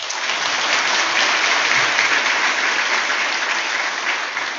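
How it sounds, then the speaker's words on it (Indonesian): Steady, dense applause from a graduation audience at an Indonesian Islamic institute's ceremony, loud and continuous throughout with no break and no voices on top. "Boleh tepuk tangan sekarang."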